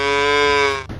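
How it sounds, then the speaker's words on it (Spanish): A cow gives a single loud, sustained moo, close and clear, lasting about a second before cutting off. "Mu, como hacen las vacas."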